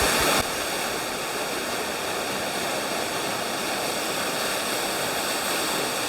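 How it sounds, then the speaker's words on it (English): Hedge Creek Falls in Dunsmuir, California, heard from the cave behind the waterfall: a loud, constant roar of falling water filling the space, steady and unbroken throughout. "So this cave, you can actually go behind the waterfall."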